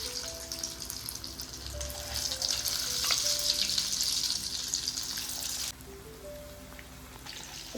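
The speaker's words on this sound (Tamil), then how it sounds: "இப்போ எண்ணெயில் போட்டு பொரித்து எடுக்க போகிறோம்." Marinated chicken deep frying in hot oil, a close, steady crackling sizzle that stays dense throughout, dropping slightly quieter near the end.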